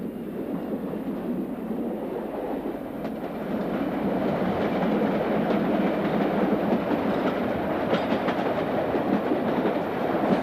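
A London train running along the line past Stratford Southern Junction toward Canning Town, with a steady, loud rumble of wheels on rails and faint rhythmic clatter throughout, building slightly after the first few seconds, with no voices.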